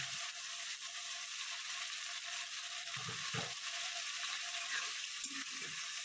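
Ginger and green chili paste frying in a pan, a quiet steady sizzle with occasional soft scraping and stirring clatter.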